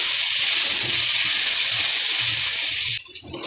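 Fried potatoes go into sizzling curry masala in a pan, a steady loud hiss of frying that runs unbroken before dropping away abruptly near the end.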